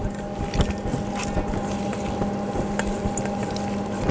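Lime juice, lime zest and a yuzu-ponzu mix being stirred together, giving a steady wet swishing with small clicks and taps against the bowl, close and continuous with a low background hum.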